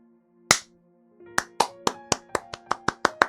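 One person claps, a single sharp clap first, then after a pause a quick run of about ten crisp, evenly spaced claps, close and clear over quiet background with a faint tonal hum.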